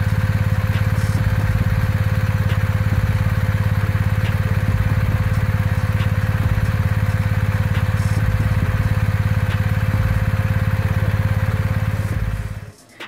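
A 2021 BMW R1250 GS HP Adventure motorcycle engine running close by with a steady, throbbing boxer hum for several seconds before cutting off abruptly near the end.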